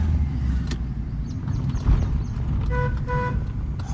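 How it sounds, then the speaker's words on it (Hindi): Two short car horn honks sound over steady road and engine rumble while driving through narrow village lanes, a brief pair of toots near the end. "हॉर्न हमेशा ना लॉन्ग बजाया करो, जैसे आपने 2-3 बार टे टे करके बजाया"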